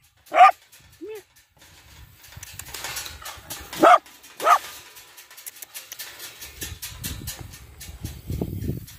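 A dog on a farm lets out several sharp, loud barks close by, separated by a short whimper, while a person talks and moves around in the background.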